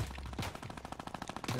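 Rapid automatic gunfire in a Fortnite-style shooter game, a fast, steady rattle of loud shots lasting the whole moment.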